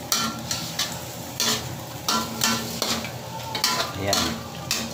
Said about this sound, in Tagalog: Haluin natin, haluin.